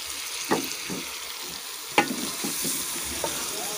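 Capsicum and mutton fry in a pan for a restaurant-style Shimla mirch gosht, a soft steady sizzle broken by a few sharp scrapes and knocks of a spoon stirring the pieces.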